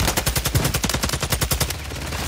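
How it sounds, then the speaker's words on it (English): Rapid automatic gunfire in a video game, a fast, evenly spaced burst of loud punchy shots lasting about two seconds, close and dominant with no talk. "Get shooting, Nate."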